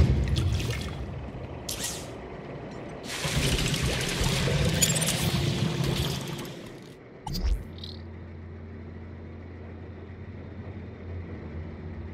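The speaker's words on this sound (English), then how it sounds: "Water refill complete." Water pours steadily during a refill in the video game Beyond a Steel Sky, a loud gushing stream that runs for several seconds, then cuts off with a short clunk before a quiet mechanical hum remains.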